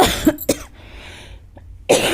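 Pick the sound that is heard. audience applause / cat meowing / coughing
coughing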